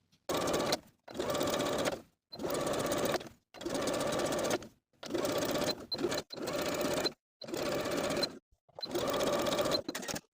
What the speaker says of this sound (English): You can top stitch right underneath your neckband with about 1/8 of an inch seam allowance using a cover stitch machine